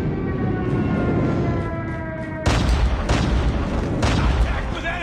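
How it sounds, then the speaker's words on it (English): Airstrike explosions in the Call of Duty Mobile video game: a sudden loud, broadband boom hits midway and is followed by sustained rumbling blasts and crackling impacts, over earlier game noise and a steady background tone. "Friendly airstrike incoming."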